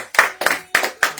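Church congregation applause at a communion service: four loud, evenly spaced group claps in quick succession, close and crisp with little talk.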